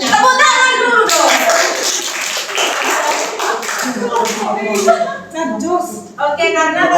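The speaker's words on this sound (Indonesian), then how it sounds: "Tepuk tangan dulu dong." Classroom of students clapping their hands after group presentations, a burst of clapping mixed with children's voices chattering over it, with talk continuing as the applause tapers off.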